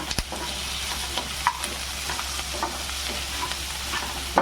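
Cashews and onions roast together in a pan for an Afghani-style egg curry paste, with a continuous close sizzle and occasional stirring clicks and scrapes against the pan.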